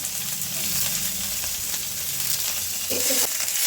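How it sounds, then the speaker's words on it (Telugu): Green chillies and onion fry in hot oil in a pan, a loud continuous close sizzle with brief stirring scrapes, no talk. "మనం మిర్చి వేద్దాం అండ్ ఇంకో సైడ్ ఆనియన్ వేసేద్దాం."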